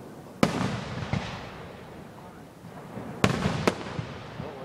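First Nation community fireworks display exploding outdoors, several sharp distant bangs arriving in pairs with crackling tails and a low rumbling ambience in between, while faint voices chatter nearby.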